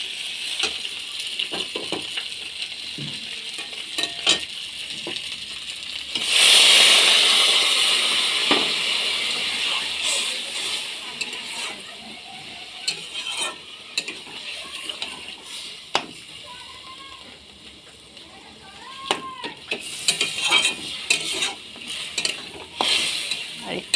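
Water poured into a pan of banana flower curry (mochar muri ghonto) throws up a loud hissing surge of steam, which fades into steady bubbling with scattered stirring clinks and scrapes.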